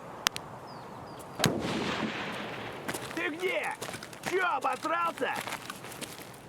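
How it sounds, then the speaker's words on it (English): Gunfire in Escape from Tarkov from a distant shooter in the warehouse area, a sharp crack followed by scattered muffled reports, with players talking over it throughout. "He's shooting at somebody else, I think"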